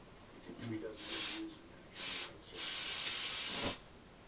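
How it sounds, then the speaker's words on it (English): Hairspray hisses from an aerosol can in three bursts, a long one, a short one, then another long spray, close and loud, with faint talk in the quiet gaps. "Probably because it's supposed to spray the hairspray first."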